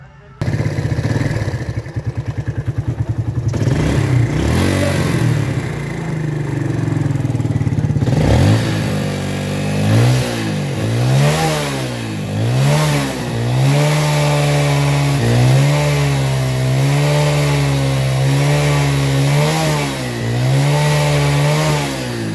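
A rebuilt Yamaha Vega ZR motorcycle engine runs rough up close, loud and steady at first, then revved again and again in rising and falling swells.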